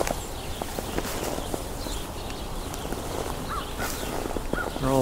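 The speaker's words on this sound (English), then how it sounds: "all this squabbling is house sparrows." House sparrows squabbling in hillside shrubs during a Christmas bird count, giving scattered quick chirps and chatter over a busy, noisy outdoor background, with a louder burst of calls at the end.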